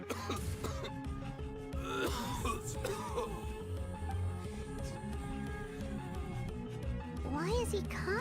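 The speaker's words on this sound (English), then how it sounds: "Why is he coughing so much?" A character in the video game Genshin Impact coughs and clears his throat repeatedly, several rough bursts heard against game music and spoken dialogue.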